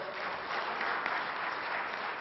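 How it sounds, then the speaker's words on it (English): A conference hall audience applauds steadily after a speaker's interactive session, dense even clapping sustained throughout at moderate distance. "So give him a big round of applause."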